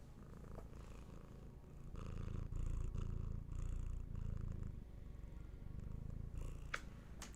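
A pet cat named Gertie purrs steadily and close up in a quiet room, a low continuous rumble with slow breathing swells and no talking.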